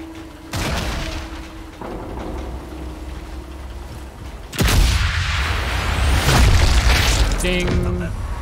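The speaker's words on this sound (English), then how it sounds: "I just know it was an explosion." A loud explosion in the Sniper Elite 5 video game bursts out midway, a broad booming blast with rumbling debris that follows an earlier softer thud and hum, and no voices.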